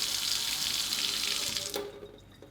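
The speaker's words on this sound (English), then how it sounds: "the water will turn on and off a few times and run the coldest and hottest water possible" A Moen smart faucet runs water into a sink during its pairing test, a steady rushing splash that fades and shuts off near the end, leaving quiet drips.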